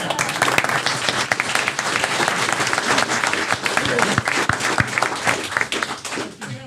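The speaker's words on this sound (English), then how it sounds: "And I want to give these 2 gentlemen a round of applause." An audience at a county board of commissioners meeting applauds two retiring EMS workers, with dense, sustained clapping from a crowd and voices mixed in beneath it.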